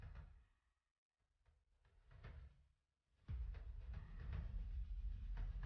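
A train rolls along rails with a low rumble, fading in and out before swelling into a loud, steady roar with a rattling clatter as it passes close by.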